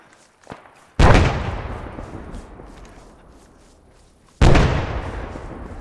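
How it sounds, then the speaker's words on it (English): Two heavy grenade blasts in ArmA 3 gameplay, each a sudden loud broadband boom followed by a long rolling decay, with a small pop before the first and a second blast about three and a half seconds later. "Let's throw a nade over there."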